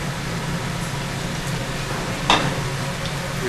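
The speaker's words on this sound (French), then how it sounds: "Donc nous chauffons notre poêle, nous allons mettre du beurre clarifié." Clarified butter sizzling in a hot frying pan, a steady close crackling hiss with a brief sharper burst partway through, no talking.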